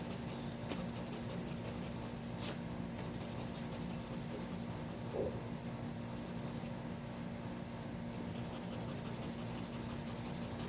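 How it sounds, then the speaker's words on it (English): Pencil lines on paper are rubbed away with an eraser, a soft, steady scratchy rubbing that continues close and quiet with no talking. "you can start to erase your vanishing points and your rays"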